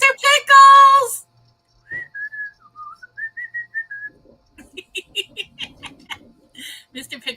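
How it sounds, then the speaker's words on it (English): Pet bird whistling: a sustained melodic whistle, then a run of short chirpy whistles mixed with a voice and soft laughter, close and fairly clear. "Mr. Pickles is whistling back"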